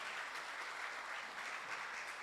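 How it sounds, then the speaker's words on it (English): Conference audience at an energy plenary session applauding the panel, a dense, steady wash of many hands clapping at moderate level throughout, with no talk over it. "Can we give a round of applause to the panel?"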